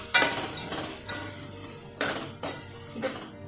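Tomato and salt being stirred in a pan, with several distinct scrapes and clinks of a spoon against metal over a soft sizzle, no talking.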